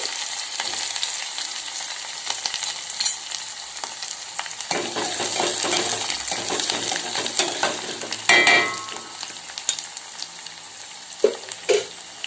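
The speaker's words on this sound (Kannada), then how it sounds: "ನಾವು ಹೆಚ್ಚಿಟ್ಕೊಂಡಿರೋ ಕರಿಬೇವು ಮತ್ತು ಈರುಳ್ಳಿಯನ್ನು ಇಲ್ಲಿ ಸೇರಿಸ್ತಾ ಇದ್ದೀನಿ" Curry leaves and chopped onion crackle in hot oil with mustard seeds and cumin, a steady sizzle broken by bursts of spattering and a few metallic clinks of a spoon against the pan.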